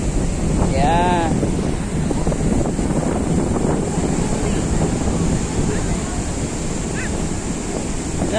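Ocean waves and strong wind at a beach where boys swim in the surf, a loud continuous rumbling roar with heavy wind buffeting the microphone and a brief whistle-like tone early on.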